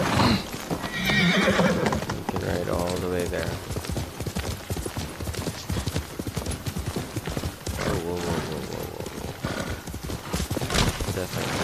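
Horse hooves clip-clop steadily with an occasional whinny from a video game horse, under someone talking and the game's background music.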